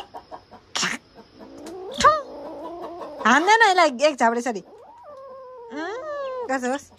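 A cat meows repeatedly in loud, drawn-out cries, close by, with people talking around it.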